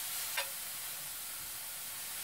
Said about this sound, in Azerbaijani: belə quru tavanın içərisində soğanı qovururam